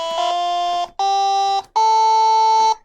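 Three sustained synthesized celesta-like tones generated from a scanned card, each held for about a second with a short gap between, steady and loud with no talking.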